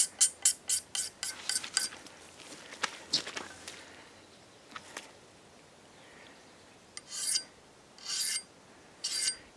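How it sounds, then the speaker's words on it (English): Axe blade being sharpened by hand, a close run of quick rasping strokes at first, then scattered strokes with quiet gaps and a few longer grinding passes near the end. "Let's sharpen a little bit."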